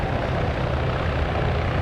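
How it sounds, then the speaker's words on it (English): A helicopter flies overhead in a Gulf War PvP video game set in Fallujah, a loud, continuous rotor and engine roar heard close and alone. "they made someone follow the helicopter!"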